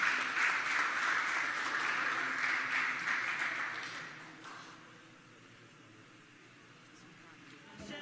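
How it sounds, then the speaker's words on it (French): Applause at a heritage launch ceremony, moderate crowd clapping for about four seconds that then fades to quiet room noise. "On l'applaudit."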